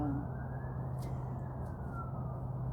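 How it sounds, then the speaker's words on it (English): A distant siren, a faint wavering wail rising and falling above a steady low hum of background noise. "there's a siren"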